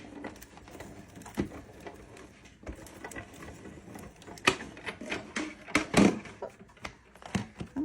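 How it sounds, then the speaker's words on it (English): A Sizzix Big Shot Plus die-cutting machine rolls a plate through while reindeer craft pieces are cut, giving irregular clicks, clunks and rolling rattles at close range with no talk. "we're gonna roll this through our Sizzix Big Shot Plus"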